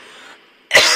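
A single sharp, loud cough bursts out after a stretch of faint background murmur, ending the moment abruptly.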